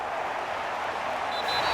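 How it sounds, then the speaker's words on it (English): Home crowd applauding in an NFL video game after a Dallas Cowboys versus Philadelphia Eagles matchup, a steady, moderately loud wash of clapping with no talking. "And the home crowd applauding. They're happy with what they've seen."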